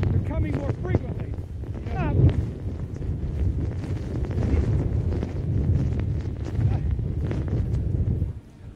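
Strong wind gusts buffet a microphone outdoors in a deep, rumbling roar that swells and eases in short bursts and runs under a voice until it cuts off near the end.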